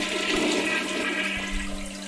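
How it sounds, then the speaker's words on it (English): A toilet flush played from a soundboard, a loud, close rushing swirl of water that holds steady and then begins to fade, with no talk over it. "This dude has a toilet flush on his soundboard"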